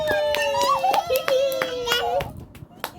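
Hands clapping in quick sharp bursts, close and fairly loud, under a child's sung and spoken voice, while praise is given to a little girl reciting rhymes.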